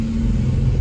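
A 2002 Ford Ranger truck engine hums and rumbles steadily up close as it is put into gear in four-wheel drive, a brief low drone with no voices.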